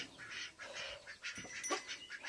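Duck quacks in a short series of nasal calls, faint and somewhat distant, with light rustling around them and no speech.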